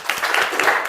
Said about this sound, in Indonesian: beri tepuk tangan kepada Ratna karena sudah.